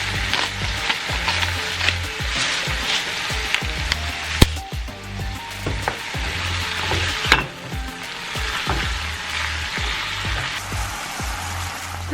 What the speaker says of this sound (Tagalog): Let's cook our steak.